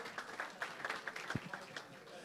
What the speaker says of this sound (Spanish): Fuerte el aplauso para La Altagracia.